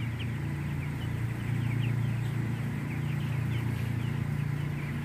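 Chicks, eight-day-old broilers in a closed-house coop, make soft, dense, continuous peeping and clucking under a steady low hum of fans running throughout.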